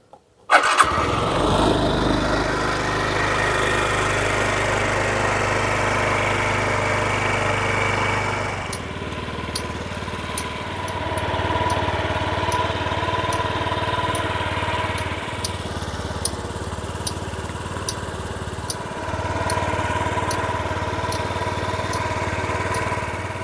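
A Yamaha Gear UA07J scooter engine fires up abruptly and revs, then drops to a steady, rattly idle that continues with small ticking noises.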